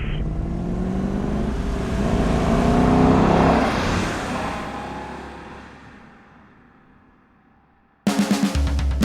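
A car engine hums as the vehicle drives, swelling to a peak and then fading into the distance before a brief, abrupt burst at the end.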